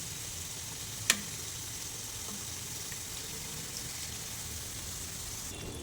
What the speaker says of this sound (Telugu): ఇప్పుడు మిగిలిన వాటిని కూడా ఇలానే వేసుకొని ఫ్రై చేసుకోవాలి.